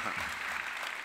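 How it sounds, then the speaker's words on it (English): Steady audience applause fills a medical congress hall during a session on obesity, a dense continuous patter of many hands at moderate volume, with a faint voice in the background. "Come on, round of applause or we'll do the boot camp right here."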